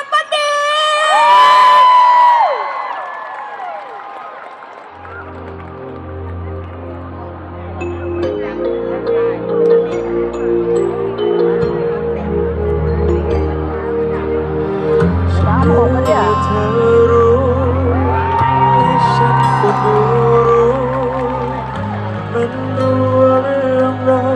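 Fans at a Toyota event stage in Chiang Mai clap, cheer and scream for the singer, a loud sustained crowd roar with whoops and shrill shouts over music, after a host's voice at the start.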